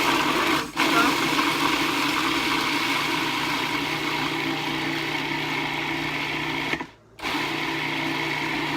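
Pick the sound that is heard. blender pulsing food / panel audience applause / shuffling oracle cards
blender pulsing food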